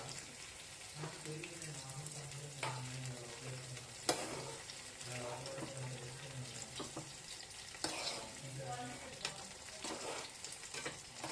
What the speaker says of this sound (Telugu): నెక్స్ట్ పచ్చిమిరకాయలు ఉల్లిపాయలు వేసేసుకున్నాం